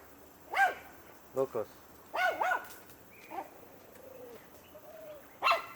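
Dogs, including a white dog, bark in short sharp bursts close by, separated by brief whimpers and yips, while people talk and call out at intervals.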